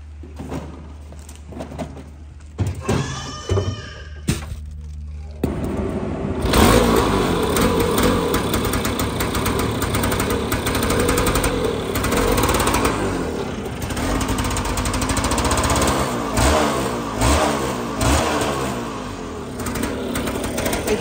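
A Vespa scooter engine idles and rattles, then revs up hard into a sustained loud, buzzing drone that rises and falls with the throttle for the rest of the clip, with no talking.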